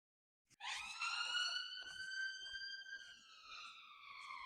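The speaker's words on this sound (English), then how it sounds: "I don't know if that police siren got picked up by the microphone" A police siren wails outdoors on a windy, sunny day, its rising and slowly falling tone starting abruptly and holding steady and fairly loud throughout, with no talk over it.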